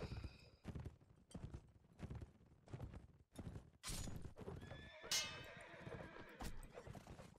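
Horses in the Mount and Blade: With Fire and Sword battle game trot with repeated hollow clip-clop hoofbeats in a rough rhythm, mixed with a neigh and clanking combat hits, all at low overall level.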